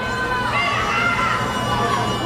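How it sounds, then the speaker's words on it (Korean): A crowd at a political party rally in Gangwon shouts and boos as speakers take the stage, a dense, steady roar of many voices with higher yells rising through it. "친한동훈계 인사들이 올라올 때마다 고성과 야유가 터졌습니다"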